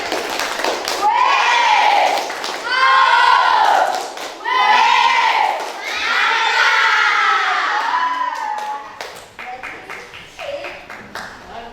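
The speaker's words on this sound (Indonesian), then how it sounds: "Oke, tepuk tangan." A classroom of children lets out loud, chanted cheers in several rising and falling bursts, with scattered clapping mixed in, before the noise breaks up into lighter, uneven claps and calls near the end.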